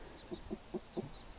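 Chickens give four soft, evenly spaced clucks at close range, with a faint high chirp between them, in a quiet garden setting.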